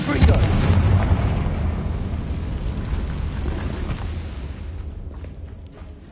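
The Confringo explosive spell in Hogwarts Legacy: a loud, close, rumbling blast that starts at once and slowly fades over several seconds into quiet.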